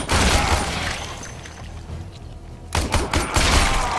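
Secondary weapon fire at practice targets in the Warframe video game comes in rapid bursts of loud, close shots, dense at the start, pausing midway, then resuming with sharp repeated cracks.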